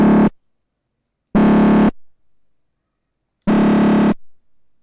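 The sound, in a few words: FM synth in FL Studio with asymmetric curve reversed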